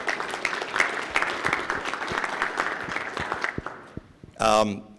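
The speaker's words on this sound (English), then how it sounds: "let's give a round of applause to Mayor Kurtz for hosting this" At a border security forum in Independence, Ohio, an audience claps for the mayor, a fairly loud crowd applause that thins out before someone briefly speaks at the end.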